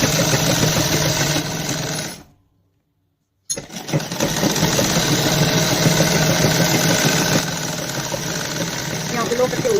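A sewing machine stitching a sleeve onto a garment, running in a steady mechanical whir, stopping briefly for about a second, then resuming, while someone talks throughout.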